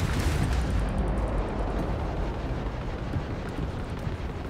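Spaceship weapons firing during space combat in the game Starfield, a dense, rumbling barrage of booming blasts that is loudest at the start and stays heavy and continuous.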